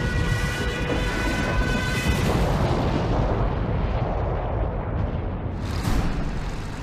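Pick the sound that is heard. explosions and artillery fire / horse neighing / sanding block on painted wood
explosions and artillery fire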